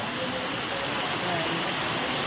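Heavy rain pours down steadily in a dense, constant hiss with no pauses, loud and close throughout the short stretch, with no talking over it.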